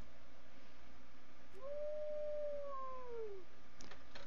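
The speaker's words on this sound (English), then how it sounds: "So we're going to go with the wolf howl." A synthetic wolf howl sound effect from a World of Warcraft WeakAuras alert plays once, a single rising then slowly falling tonal howl lasting under two seconds, clear but fairly quiet over a low background hum.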